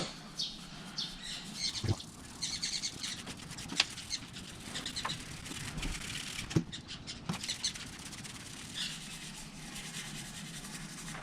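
A brush works dissolver over the scaly white underside of a truck chassis, giving a steady soft rubbing and scraping texture with a few sharper scratches, close and fairly quiet, with no talking.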